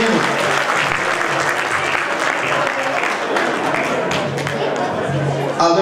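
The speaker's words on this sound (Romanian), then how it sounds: "Felicitări și multe aplauze!" Audience applauding at an indoor Paștele Cailor (horse Easter) celebration event in Târgoviște, a dense, sustained clapping from a hall crowd with light chatter, steady for several seconds before tapering near the end.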